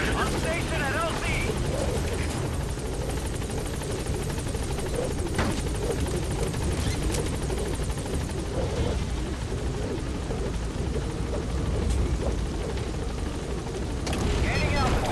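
Helicopter arriving at a landing zone in Metal Gear Solid V, a loud continuous rotor roar and whine filling the scene, with radio voices speaking over it.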